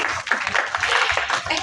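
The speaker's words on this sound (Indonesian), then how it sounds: "Sheila Dara tepuk tangan dia." Applause breaks out at a film press conference, a short, dense burst of clapping close by with some voices mixed in.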